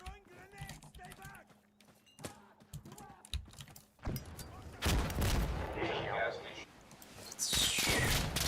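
Artillery barrage explosions in a video game crash in as a dense, heavy rumble of overlapping blasts after a stretch of scattered clicks and talking, growing louder and continuous toward the end.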